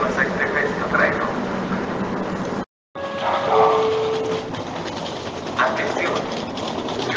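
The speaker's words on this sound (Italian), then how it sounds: "Il treno regionale veloce 3488 di Trenitalia, proveniente da Venezia" A Trenitalia regional express from Venezia rumbles at a platform in Vicenza railway station. A continuous low mechanical drone breaks off for a moment, and brief tonal squeals and a voice sit on top of it.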